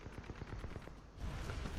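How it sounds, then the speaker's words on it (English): A magnetic grenade launcher fires in rapid succession in the shooter game Titanfall 2, a quick string of punchy shots over a dense, noisy battle background. "magnetic grenade launcher. As you can see, I can just kind of fire it in a general direction"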